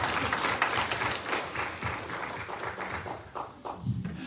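A congregation applauding at a church marriage conference, dense sustained clapping from many hands that thins slightly toward the end.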